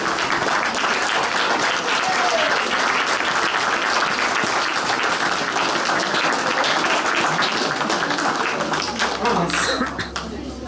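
Audience at a cosplay contest during the 2022 Auxerre Galactic Days convention applauds loudly and continuously, a dense wash of clapping from a crowd that fades slightly at the end.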